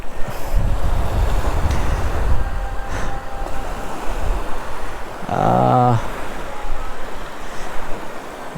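Ocean surf rushes and washes in steady waves at Pakkirappa beach, with wind buffeting the microphone, and a brief tonal mechanical whine passes partway through.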